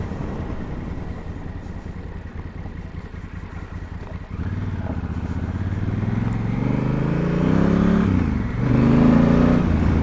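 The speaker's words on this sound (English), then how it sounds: "even taking off and gassing it with this, you know, this Africa Twin has enough power." A Honda Africa Twin adventure motorcycle on gravel, idling at first and then pulling away with a rising, revving engine note that grows louder over the last several seconds.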